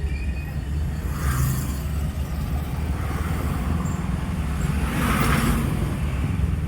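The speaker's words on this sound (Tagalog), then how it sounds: "Traffic dito." Steady road traffic close by, a continuous low engine rumble from cars and heavier vehicles with a few louder swells as vehicles pass.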